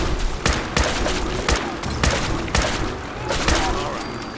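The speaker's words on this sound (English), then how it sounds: "I'm gonna shoot him in the tail." Gunfire in Fallout 4 Far Harbor as a player shoots at a creature: about eight sharp, loud shots in an uneven rhythm, spaced roughly half a second apart, over a dense layer of game background sound.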